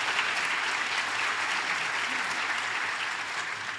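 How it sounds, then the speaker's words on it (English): Audience applause at a live podcast event on AI and learning, a broad, even wash of many hands clapping for several seconds, moderately distant and gradually easing off. "Round of applause for that."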